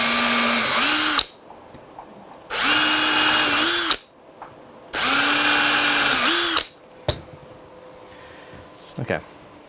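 A power drill boring through an electric guitar body on a backing board, three loud sustained whining bursts with pauses, followed by quieter handling knocks.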